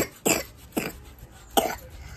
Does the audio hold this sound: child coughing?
yes